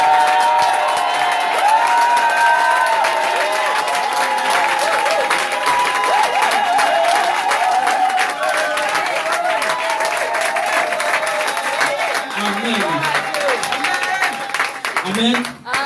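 A church congregation at a Sunday service applauds and cheers in sustained loud clapping mixed with shouts and whoops, lasting steadily and tapering off at the very end.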